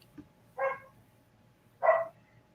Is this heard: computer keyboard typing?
no